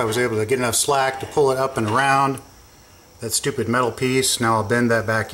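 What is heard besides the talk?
No everyday noise stands out behind the speech.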